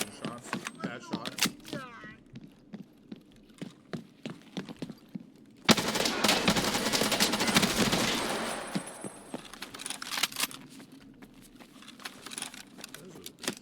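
Gunshots in the Escape from Tarkov video game crack out as scattered single shots, then a loud sustained burst of automatic fire, followed by more sporadic shots and faint clicks.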